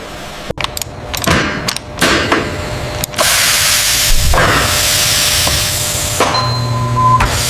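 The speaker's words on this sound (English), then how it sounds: "Pressurized steam passes through the petals, capturing the volatile essence in a vaporous cloud." Pressurized steam hisses steadily through industrial distillation vats packed with flower petals for perfume extraction, loud and continuous, broken by a few clanks and knocks from the machinery.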